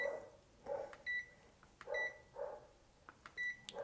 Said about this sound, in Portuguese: posso vir aqui na escala de BIP e encostar as pontas, que vai apitar